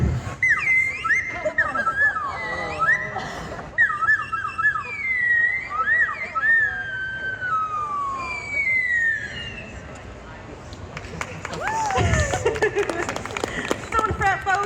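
A circus clown's slide whistle at a tattoo festival circus history act sends rising and falling gliding tones, in repeated sweeps, over crowd noise, ending with a long descending slide.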